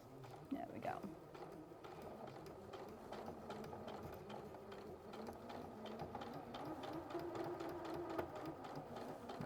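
A sewing machine stitches a quilt with a continuous, low mechanical hum and rattle, faint and steady beneath people talking.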